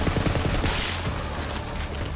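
Rapid automatic gunfire from a weapon in the Borderlands 3 video game, a loud, dense stream of shots that starts punchy and blurs into a steady roar over about two seconds, with no talking.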